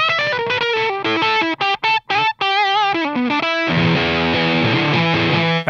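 An electric guitar through a TC Electronic Honey Pot Fuzz pedal plays loud, fuzzy riffs with a few abrupt stops, ending on a thick sustained chord, with no talking.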